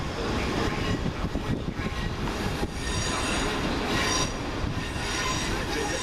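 A Class 444 electric train pulls in to terminate from London Waterloo, its wheels rumbling and squealing on the rails in a loud, continuous roar with rhythmic clatter as the carriages pass close by.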